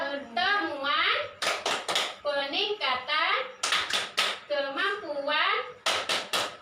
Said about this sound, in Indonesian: Seperti biasa ya, tepuk P2K2 ya.